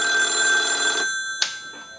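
An old European telephone's bell rings in a loud metallic burst for about a second, then stops abruptly, followed by a brief faint clink of the bell.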